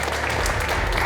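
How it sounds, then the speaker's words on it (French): Loud, dense applause from a live audience at an amateur fight club tournament event, a continuous close wash of clapping with no voices. "On applaudit bien fort."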